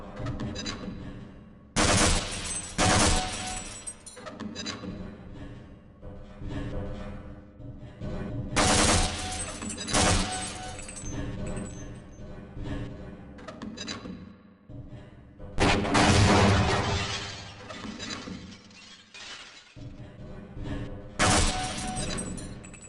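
Repeated loud bursts of gunfire and grenade blasts shatter targets on a training range in Half-Life: Blue Shift, coming in several separate clusters with short gaps between them.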